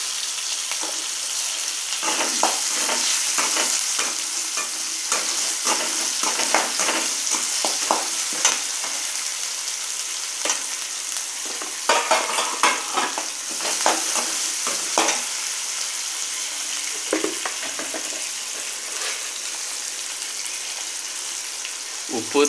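Onion, tomato, garlic and curry leaves sauté in a pan for a tamarind yam curry, a dense, bright hiss with bursts of stirring scrapes and crackles, steady and close throughout.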